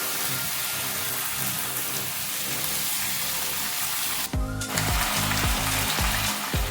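Pui saag greens being stirred and fried in a pan, a steady crackling sizzle throughout, with a sharp clatter of utensil against the pan near the end.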